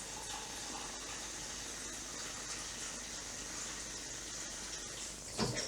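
Tap water gushes steadily into a dish with a little dishwashing liquid, a continuous broadband rush at even loudness throughout, with a brief louder splash near the end.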